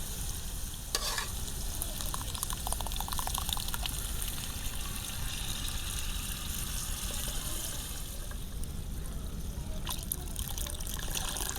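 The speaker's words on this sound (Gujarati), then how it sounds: "હવે આપણે દાળ નાખશું એમાં." Dal poured into a pot of cooked masala over a village wood-fired stove, a dense continuous sizzle and wet churning with trickling liquid, steady and close throughout.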